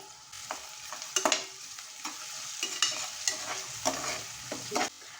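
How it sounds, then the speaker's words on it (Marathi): Onion sautéing in a pan with a little salt, soft sizzling under intermittent scraping and stirring strokes of a spoon against the pan, close and moderately quiet. "कांदा छान असा परतून घ्यायचा आहे आता कांदा लवकर शिजण्यासाठी मी थोडंसं मीठ ऍड करते आहे"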